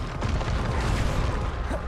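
A Bombarda explosion spell cast in the video game Hogwarts Legacy gives a deep, rumbling boom with a rough low-end burst that rolls on for nearly two seconds.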